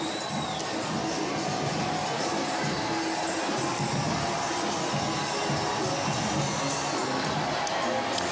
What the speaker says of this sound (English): This is the biggest crowd we've had in a while at the broadcast booth here.